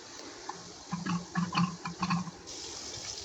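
Water poured with a cup of millet into a pressure cooker, a short burst of splashing and gurgling in the middle against quiet background hiss.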